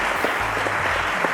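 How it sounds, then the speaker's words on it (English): A studio audience on a school quiz show applauds, a steady wash of clapping that fills the whole short stretch at moderate volume with no voices over it. "A round of applause to Abdul Samad."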